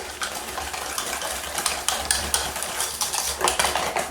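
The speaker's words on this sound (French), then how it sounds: "Je mélange bien, de façon à ce qu'il n'y ait pas du tout de morceaux." A whisk or spoon scrapes and clinks steadily against a bowl, stirring tart filling thinned with cold milk for a red-fruit tart. The rhythmic, close strokes continue without pause and without talk.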